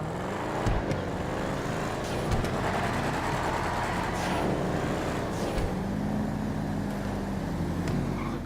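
Street race cars in GTA 5 roar continuously, a steady dense engine drone with passing swells throughout, loud and close with no talking.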